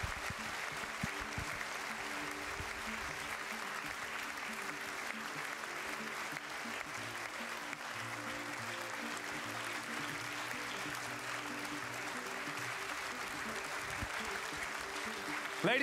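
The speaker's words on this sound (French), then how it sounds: "Applaudissez-les encore bien fort." An audience at the 2018 European Inventor Award ceremony applauds the finalists, steady, moderately distant clapping that holds evenly for the whole stretch.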